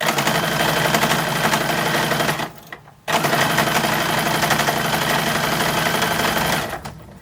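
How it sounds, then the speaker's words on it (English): Close, steady whir of a sewing machine stitching the two-piece collars of 1910s–1920s style toddler summer dress bodices, running continuously with a brief pause near the middle before resuming. "I am sewing together the collars"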